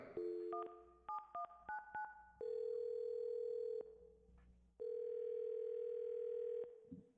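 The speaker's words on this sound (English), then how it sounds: "I will dial her phone number right now" A phone number is keyed in on a telephone, a rapid run of short paired dialing beeps, followed by two long steady ringback tones separated by a pause, clear and alone.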